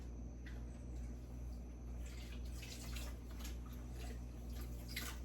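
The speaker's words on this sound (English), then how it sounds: "now we're going to add the cloth" Wool cloth slips into a sink of dye water, giving soft sloshing and gentle splashes over a steady low hum, quiet and close.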